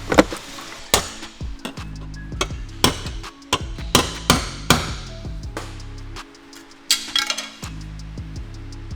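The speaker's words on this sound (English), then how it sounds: "from the top side just try to hammer it out." Sharp metallic hammer blows strike repeatedly at an uneven pace on a BMW E46 M3 metal part, each ringing briefly, with short pauses between clusters of hits.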